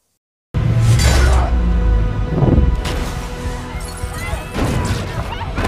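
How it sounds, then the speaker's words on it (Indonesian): Film sound effects of a helmet being crushed and a man hurled out through a window, with loud crashing impacts in a dense, continuous mix that swells again near the end. "Helmnya hancur dan Eric pun dilempar keluar jendela"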